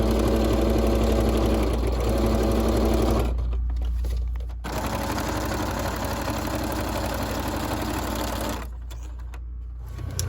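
A sewing machine stitches through the layered paper of a Halloween junk journal, its steady mechanical hum running close and loud, broken by two brief pauses before it resumes.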